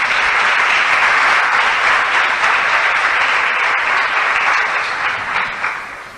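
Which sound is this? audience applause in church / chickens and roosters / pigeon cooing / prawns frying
audience applause in church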